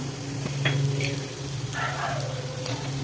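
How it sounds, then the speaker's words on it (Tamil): Fennel seeds dropped into hot oil for a green pea kurma crackle and sizzle steadily up close, with a few stirring scrapes and clinks of a pan over the continuous frying hiss. "எண்ணெய் காஞ்சிச்சு சோம்பு போட்டுறேன்"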